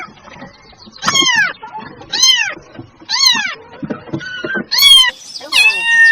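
Young kittens meow loudly and close, five or six rising-falling mews in a steady sequence about a second apart, with small shuffling sounds between them.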